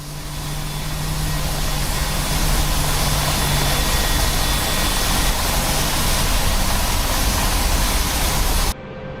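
The AH-64 Apache helicopter in the DCS flight simulator spins up its engine and blades with a loud, continuous whooshing roar that holds steady throughout, heard from an external view.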